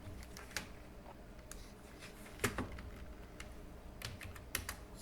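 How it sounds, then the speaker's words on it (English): Computer keyboard typing a sudo command on Ubuntu Linux, a quiet stream of soft clicking keystrokes with a few sharper taps, alone and close. "we'll type again the sudo command"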